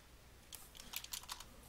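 Computer keyboard keys pressed in a short burst of quick, light clicking taps while working in a spreadsheet, close and quiet with no talking.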